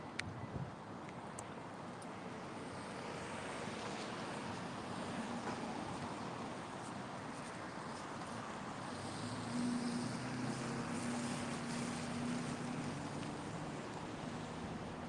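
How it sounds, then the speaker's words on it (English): Wind blowing hard down a city street that channels it like a wind tunnel, heard as a steady roaring rush across the whole clip with gusting surges and no talk. "Oh, you can hear the wind? Yeah, well, I'm sort of in a wind tunnel."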